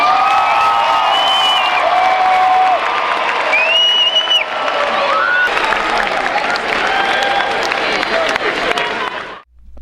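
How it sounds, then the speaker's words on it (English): A high school graduation crowd at a commencement gives a long, loud burst of applause, with dense clapping mixed with cheers, whistles and whoops, filling a large space before cutting off abruptly. "let's give them a great round of applause"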